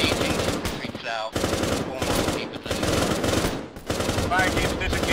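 Sustained automatic gunfire from an Arma military shooter, loud dense bursts that break off briefly around one and four seconds before resuming, with some speech underneath.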